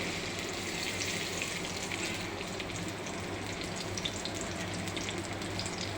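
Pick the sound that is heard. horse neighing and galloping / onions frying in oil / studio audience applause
onions frying in oil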